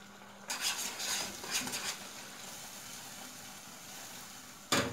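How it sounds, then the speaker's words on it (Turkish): Onions are sautéed in a pan and stirred with a utensil, giving a low sizzle and a few bursts of scraping and clinking, with a sharp knock against the pan at the end. "Şimdi iyice kavuruyoruz."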